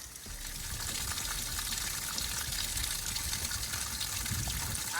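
Water drains steadily from the drain plug of an inflatable boat, a continuous close trickle and gush that stays even throughout, with no voices.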